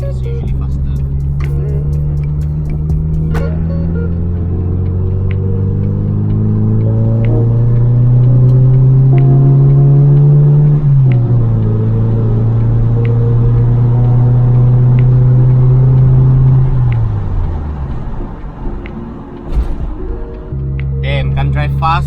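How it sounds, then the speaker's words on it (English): A car drives through slow traffic with a steady engine rumble that rises gently as it speeds up and then settles, heard from inside throughout. "Can't drive fast with all this traffic."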